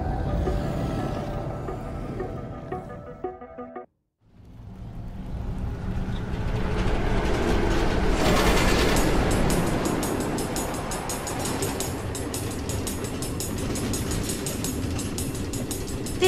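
Train rolling along automated tracks through the Nether in Minecraft: Story Mode, a steady loud rumble with rail clatter, briefly cut to silence near the start and then continuing without talk.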